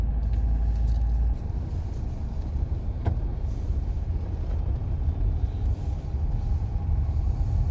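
A car on a road trip drones with a steady low road rumble from inside the cabin, heavier at the very start. One brief sharp click cuts through the continuous drive noise partway through.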